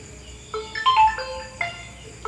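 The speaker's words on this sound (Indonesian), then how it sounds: "Siapa lagi ini yang telepon?" A phone rings with a short electronic melody of bright tones, rising and falling in two bursts over a quiet room background.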